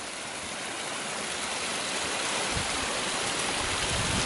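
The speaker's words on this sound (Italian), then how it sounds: "Bel muretto con la sua bella sorgente. Qui avevano acqua in abbondanza." Water pours steadily from a mountain spring beside a stone wall at an alpine pasture, a continuous close splashing rush with no voices.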